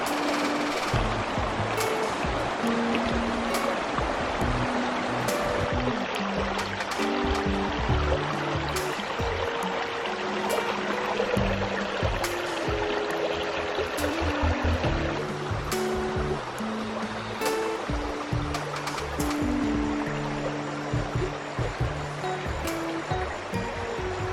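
Knee-deep water in a tunnel in Vagamon, Kerala, rushes and gurgles in a steady, echoing wash, with scattered splashes and knocks throughout.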